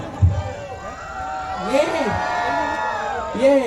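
Crowd cheering and whooping at a sky lantern festival on Bekal Beach, a scattered, moderately loud chorus of shouts in short bursts, with an amplified voice speaking over it.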